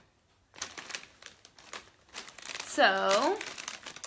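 A Swedish dill-flavoured potato chip bag crinkles in a run of sharp, crackling bursts close by, building near the end, with a voice speaking briefly over it.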